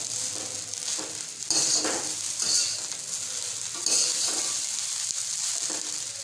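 Vegetable fried rice sizzles steadily in a hot pan while a spatula stirs and turns it, giving repeated scraping bursts over a continuous close fry with no talking.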